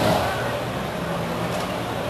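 A Subaru rally car, number 6, pulls up to the podium at the Rallye du Condroz, its engine a steady, moderately loud rumble close by amid crowd noise.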